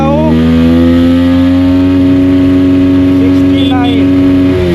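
A TVS Apache RTR 160 4V motorcycle pulls hard under throttle, its engine note climbing steadily and loud from the rider's position, with a short break and rise near the end as it shifts.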